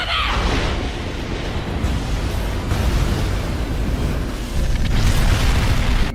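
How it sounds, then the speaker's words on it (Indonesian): A big blast from an anime missile bombardment, a loud rumbling roar with dense low-end debris that rolls on for several seconds and swells again near the end, without any voices. "sayap Harmony langsung memborbardir Sanraku dengan misil dan terjadilah ledakan besar"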